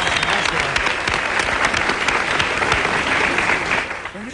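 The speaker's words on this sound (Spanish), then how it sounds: "Un aplauso." An audience claps for guest comedian Raúl Paredes at a street comedy show, dense close applause sustained throughout and easing slightly toward the end, with a few voices mixed in.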